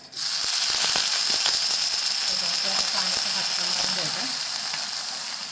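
Oil sizzling on a very hot griddle before pea dosa batter goes on, a loud, even hiss that holds steady throughout, with a few faint clicks of a utensil.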